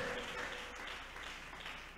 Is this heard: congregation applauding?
yes